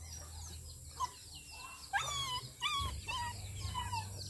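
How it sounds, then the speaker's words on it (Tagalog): Chickens clucking and squawking in short bursts close by, with a low rumbling hum underneath. "Ito na yung mga manok ko."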